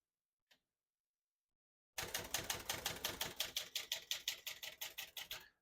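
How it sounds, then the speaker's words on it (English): Rapid key strikes on a 1971 Olivetti Valentine portable typewriter, a single faint tap followed by a loud, close, steady run of clacking keystrokes with no talking. "We're going to keep that on single for now and finish typing."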